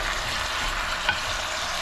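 Beef sautés in a hot pan for a beef balbacua dish, a steady close sizzle of frying meat with light stirring throughout.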